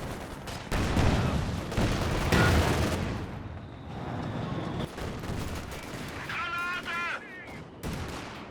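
Gunfire crackles through a Company of Heroes 2 match, with dense bursts of shots and a heavier blast as a tank grenade goes off, loud and busy with a commentator talking over it.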